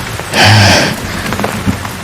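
Steady rain falls outside, a dense hiss of drops with a brief louder surge near the start, then settling into a softer patter with scattered drips.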